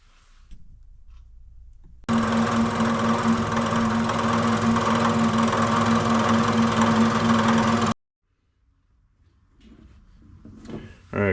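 A milling machine machining metal runs steadily for several seconds with a loud, even whine and rattling hum, then cuts off abruptly into near silence.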